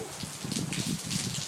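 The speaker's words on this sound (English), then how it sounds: "let me go deeper into the rain" Steady rain falling outdoors, a dense close patter and hiss of drops on surfaces with no talking.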